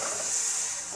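A splash of water hitting a hot pan of brinjal and potato chechki, giving a steady close hiss of steam and sizzle throughout, moderately loud with no speech.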